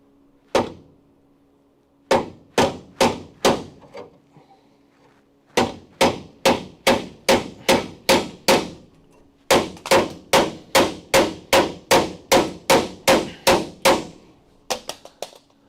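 Sledgehammer blows on car metal during repair work on a crew cab Charger, ringing out as loud, close, sharp clanging strikes, some single and many in fast rhythmic runs of steady hammering.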